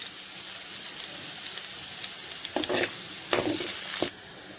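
Chopped ginger and garlic stir-frying in a pan, a soft continuous sizzle with a few scraping stirs and clatters of the utensil near the end, fairly quiet and without talking.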